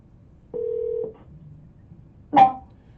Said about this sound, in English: Chris, all of my phone calls, everything is placed using smartphone.io